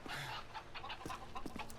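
Chickens cluck in short, close, repeated bursts over a constant ambient background in the open pit area of the Seatown video game map.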